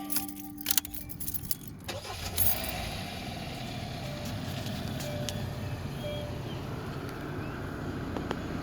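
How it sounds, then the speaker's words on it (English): 2015 Hyundai Sonata with a power steering fault, keys rattling into the ignition and then the engine turning over and settling into a low steady idle, heard up close. "Now I'm going to stick the key in and start the vehicle up."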